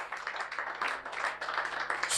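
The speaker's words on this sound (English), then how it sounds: "a round of applause for Dr. Olumide Emmanuel." Audience applause at a summit, a moderate, somewhat uneven patter of clapping from a modest crowd, with individual claps standing out and a low steady hum underneath.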